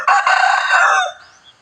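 A rooster at a temple chicken farm crows once, loud and close, a single drawn-out call of about a second that fades into quiet.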